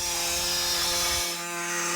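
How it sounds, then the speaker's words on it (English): A body saw trims excess metal strips on a Dodge Dart's hood, giving a loud, continuous buzzing mechanical whine with steady tonal hum that dips briefly partway through, close and without speech. "we can trim off the excess with a body saw"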